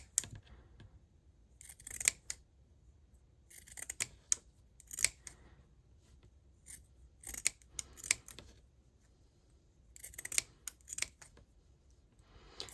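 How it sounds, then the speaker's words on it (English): Scissors snip through fabric while a reusable Swiffer duster is being sewn, cutting up to a seam: crisp bursts of close, clear cuts in irregular groups with quiet pauses between, and no talking. "I'm going to cut up to that seam"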